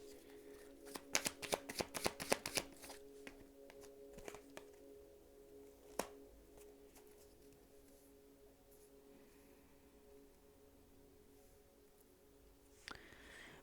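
Tarot cards being shuffled by hand in a quiet room: a burst of crisp, rapid riffling clicks near the start, then sparser single card snaps and faint handling, close and fairly soft, with no talking.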